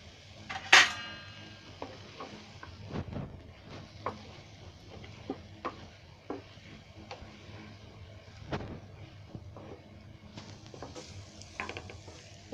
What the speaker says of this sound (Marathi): हे मसाला पूर्ण आहे ना पनीरला लागेल असं चांगलं ढवळून घ्यायचं.